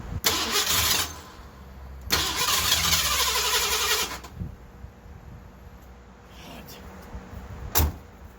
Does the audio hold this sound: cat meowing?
no